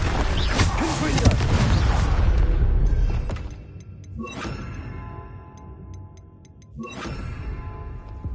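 A Confringo blasting spell exploding in Hogwarts Legacy: a loud burst with a roaring rumble that fades into quieter crackling, then a few more sharp impacts. A voice can be heard in the scene.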